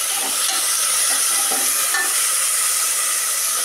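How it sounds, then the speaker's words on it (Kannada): Tomato and half a carrot stir-frying in hot tempering, a steady, close, loud sizzle and hiss with faint stirring scrapes throughout, no voices. "ಟೊಮೊಟೊ ಮತ್ತು ಸ್ವಲ್ಪ ಅರ್ಧ ಕ್ಯಾರೆಟನ್ನು ಕಟ್ ಮಾಡಿಟ್ಟಿದ್ದೆ, ಅದು ಕೂಡ ಹಾಕಿ ಚೆನ್ನಾಗಿ ಒಗ್ಗರಣೆಯಲ್ಲಿ"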